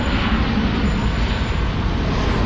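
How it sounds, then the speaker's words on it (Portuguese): An airplane passes overhead along Avenida Brigadeiro Faria Lima in São Paulo, its engine roar a loud, steady, broad rumble that fills the whole short stretch with no break. "olha o avião"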